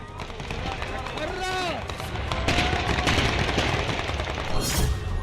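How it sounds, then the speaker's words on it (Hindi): Bursts of celebratory gunfire crackle through a noisy outdoor street crowd in Syria, with shouting voices, fireworks and a constant din of celebration. "लोग सड़कों पर उतरकर फायरिंग कर रहे हैं"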